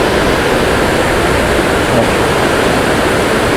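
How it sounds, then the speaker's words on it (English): Urban whitewater rapids on a river in Columbus, Georgia, a dense, loud, constant roar of rushing water that fills the whole clip, with no one speaking. "you've got class 2, 3, and sometimes up to class 4 whitewater"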